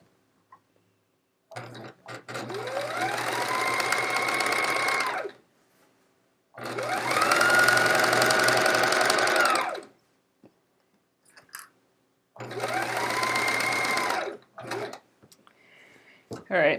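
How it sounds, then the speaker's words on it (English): Sewing machine stitching quilt pieces in three sustained runs of fast whirring, close and clear, each ramping up and stopping, with quiet gaps and small handling noises between. "I just kind of stop in the middle because then I know I've sewn through the area that I have clipped"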